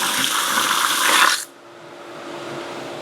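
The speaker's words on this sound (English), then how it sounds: "let a little bit of water flow out of this valve" Water gushes hard from a pool filter valve as dirty water is flushed out of the pipes, a loud steady rush that cuts off abruptly, leaving a low hum.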